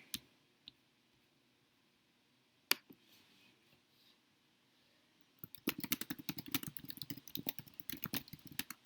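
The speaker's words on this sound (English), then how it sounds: "You would type it up here." Rapid clicking keystrokes on a computer keyboard fill the latter part, close and fairly quiet, after a near-silent stretch broken by a few isolated clicks.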